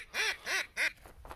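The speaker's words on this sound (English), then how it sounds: "So, Josh, did you see all the geese that just came through?" A flock of geese honks in three loud, distinct calls while passing overhead, followed by fainter calling trailing off, with no talking.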